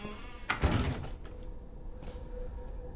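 A door in Resident Evil 7 creaks and swings shut with a short mechanical rattle and thunk, followed by a quieter creak and low ambient hum, with no talking.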